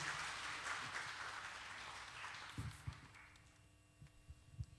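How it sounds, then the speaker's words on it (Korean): Church congregation applauding together, a steady wash of clapping that thins out and fades over several seconds, with low hum underneath. "여러분 박수로 맞이해 주시기 바랍니다."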